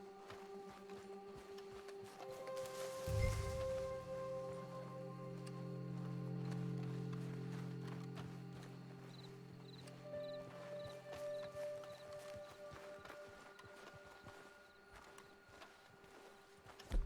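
Horse hooves clip-clop steadily in Red Dead Redemption 2, a soft continuous walking rhythm over a low rumbling game ambience, fairly quiet throughout.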